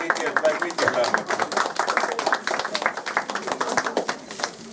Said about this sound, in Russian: Аплодисменты нашим юным артистам.